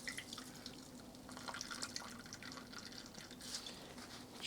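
Juice drips and trickles faintly from minced meat for Adana kebab as it is squeezed in a tea towel, close and soft with small wet taps over a quiet hiss and no talk.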